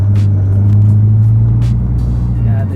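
A 2004 Subaru Impreza GD S203 being driven, heard from inside the cabin as a steady, loud low engine drone and road rumble holding at a constant level throughout.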